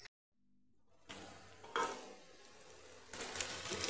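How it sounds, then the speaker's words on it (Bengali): Spices mixed with pumpkin and potatoes fry in a pan with a soft, steady sizzle and stirring scrapes that swell in bursts, fairly close and alone. "এই মশলাগুলো আমি কুমড়ো আলুর সঙ্গে মিশিয়ে নিয়েছি, এবার একটু ভেজে নেবো।"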